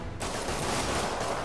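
Rapid, dense gunfire in the video game Marvel's Spider-Man, a loud continuous burst that starts abruptly and holds steady.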